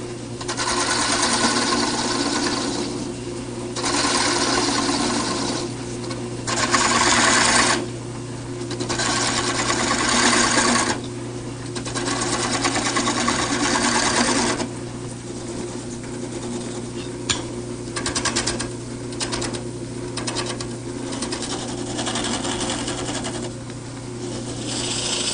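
Wood turning on a lathe with a gouge for an outdoor plant vase, a steady motor hum under repeated scraping cuts that come in rhythmic bursts as the tool is worked across the spinning piece.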